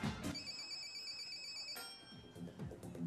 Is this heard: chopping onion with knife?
no